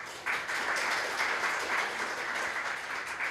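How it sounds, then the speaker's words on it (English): An audience at a PyCon APAC 2023 conference talk claps steadily to welcome a speaker, a dense, even round of applause that swells slightly after the start and holds without voices. "So with a round of applause, please welcome Chuk."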